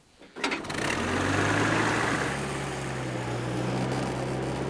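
A vintage tractor engine is hand-cranked and catches after a brief turnover, then settles into a steady, loud idle that runs on alone.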